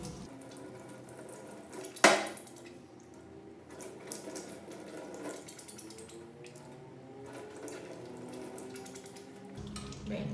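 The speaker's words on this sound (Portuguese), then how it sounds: "A pipeta não é um material muito fácil de limpar, eu preciso fazer esse movimento, olha, para conseguir enxaguar toda a parede." A glass pipette is rinsed under a running tap, giving a steady trickle and splash of water with a sharp clink of glass early on and light handling noises throughout.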